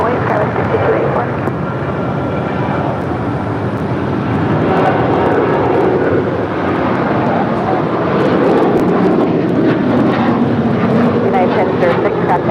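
Boeing 747 airliners with roaring jet engines at LAX, a loud continuous rumble swelling slightly toward the end, with a person talking over it.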